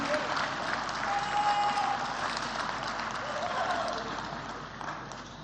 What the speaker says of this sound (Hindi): जोरदार तालियां सभी अवॉर्डीज के लिए